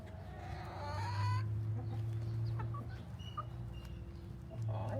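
Chickens clucking and murmuring close by, with soft scattered calls over a low steady hum, a voice talking briefly at the start.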